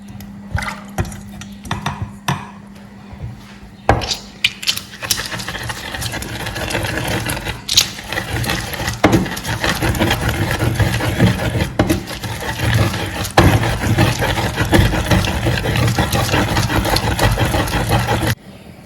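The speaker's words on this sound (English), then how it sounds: "We start blending our pepper." A blender whirs through pepper and garden eggs, starting after a few seconds of clatter. Its motor then holds a loud, steady droning grind for about fourteen seconds before it cuts off.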